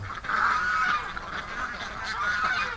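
Ducks calling from inside a pen, a steady run of nasal honking quacks that carries fairly loud and close for several seconds.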